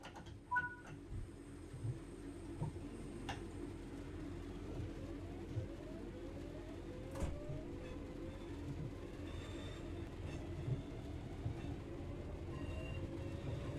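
A train pulling away in Train Sim World 6 on the Riviera Line, a low steady rumble with rising motor whine tones climbing in short steps, plus scattered clicks and clunks, fairly quiet overall.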